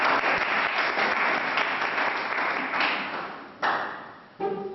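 Dense, loud audience applause at a 2006 product training session, a continuous roar of many hands that gradually thins and fades before breaking off abruptly, with a brief burst near the end.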